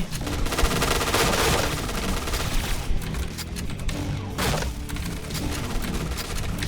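Dense, continuous gunfire from a Point Blank (PB) shooting video game, with machine-gun bursts and overlapping shots filling the whole stretch at steady high loudness, punctuated by a few heavier blasts.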